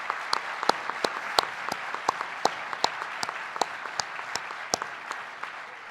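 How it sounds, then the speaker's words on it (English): Sparse, individual claps ring out from an audience at a 2011 Interior Department all-hands town hall, a thin, uneven patter of hands for several seconds. "Give him a round of applause."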